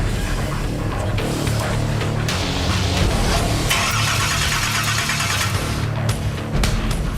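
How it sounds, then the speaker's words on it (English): An antique car engine is started after fueling, cranking and catching into a loud, rough running rumble that stays close and fills the whole stretch, with no speech over it. "It's time to fire the engine."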